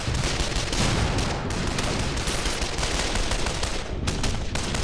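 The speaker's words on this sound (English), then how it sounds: "a Panther set up just behind that building using the archway as cover, firing through with the MG." Panther tank machine gun in a war video game, a dense, continuous rattle of automatic fire blending into loud battlefield noise with no pauses.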